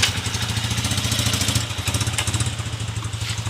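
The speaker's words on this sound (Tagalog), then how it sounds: "Smooth na ulit yung makina ng Uncle." A Suzuki Shooter 115fi motorcycle engine, freshly rebored, idles smoothly up close with a steady low thrum and light mechanical clatter, running alone without talk.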